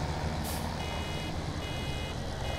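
A harvester's almost-full warning beeper sounds in Farming Simulator 17, steady beeping over a loud, constant engine drone.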